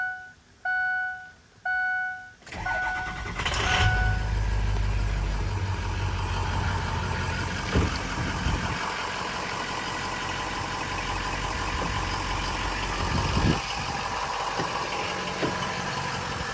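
A Ford 6.0 diesel truck engine, newly replaced and bulletproofed, cranks and starts after a few short beeps, then settles into a steady, loud idle with a rough, knocking rumble that holds for the rest of the span.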